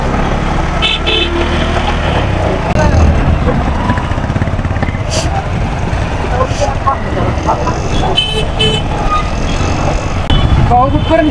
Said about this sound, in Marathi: हे बघा गाड्यांचा राडा